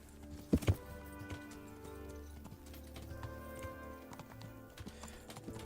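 Two sharp horse-hoof knocks near the start in Kingdom Come: Deliverance, followed by a steady low rumble of ambient game music and faint environmental noise; no one speaks.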